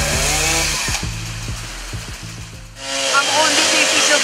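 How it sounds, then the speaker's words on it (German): Chainsaws cutting trees along an old river channel by a fish ladder in Willstätt, with loud revving engines that drop to a rhythmic idling putter before a saw roars back up at full throttle. "ein Trupp Männer mit Kettensägen"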